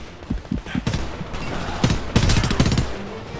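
Futuristic guns in the Homefront video game fire in rapid, uneven bursts of sharp cracks, overlapping into a loud, chaotic volley.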